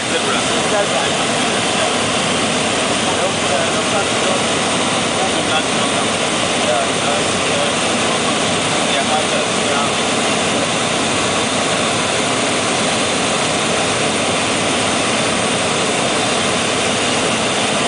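A light aircraft drones steadily in an unbroken, loud roar of engine and propeller wash as it descends to land in Amboseli National Park, with a voice speaking over the noise.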